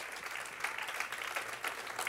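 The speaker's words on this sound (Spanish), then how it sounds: "Dale ese aplauso al Rey" A church congregation claps during a sermon, soft and somewhat distant, a continuous patter of many hands with small swells over about two seconds.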